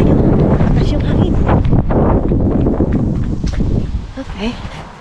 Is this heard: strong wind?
yes